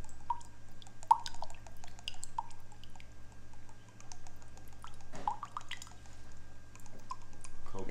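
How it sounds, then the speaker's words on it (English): Coconut water poured into a glass, quiet dripping and trickling with a few sharper drops, close and soft, no talking. "So I'm gonna go ahead and pour some"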